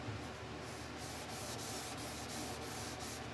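Steady wet sanding with soaked sandpaper on a sponge block, level sanding a DIY guitar kit finish, a continuous hissing rub with faint regular strokes, close and unbroken.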